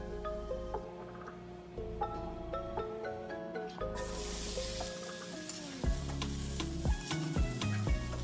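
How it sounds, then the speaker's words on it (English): Vegetables sautéing in a pan for a homemade Panda Express-style beef dish, a steady close sizzle with stirring clatter and a louder burst of frying partway through. "Sauteing my veggies,"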